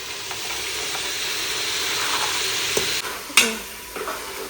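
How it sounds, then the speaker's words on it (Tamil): Masala with green peas sautés in a pan, a steady near sizzle with a few scraping stirs and a sharp clatter toward the end, with no voices. "சேர்த்துட்டு நல்லா வதக்கணும்"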